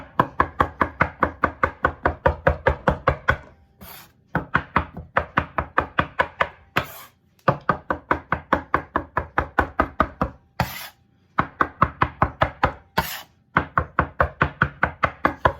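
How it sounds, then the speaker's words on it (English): Butter being cut into flour for pie dough with a utensil, a fast rhythmic train of close chopping knocks in several bursts separated by short pauses, with no one speaking. "Because I'm trying to cut my butter into my flour."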